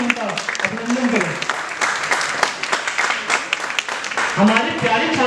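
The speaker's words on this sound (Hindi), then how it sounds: "जोरदार तालियों से इनका अभिनंदन करें।" Loud applause from an Independence Day celebration audience honoring students after a patriotic stage performance, steady clapping throughout, with a voice speaking over it at the start and end.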